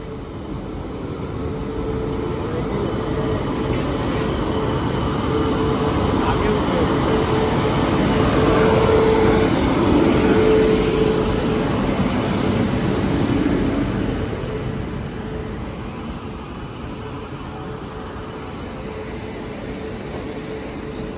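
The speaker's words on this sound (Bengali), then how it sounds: "ট্রেন চলে এসেছে" The Gour Express train pulls into a railway station platform, a long steady rumble of rolling wagons that builds and then eases, with voices talking underneath.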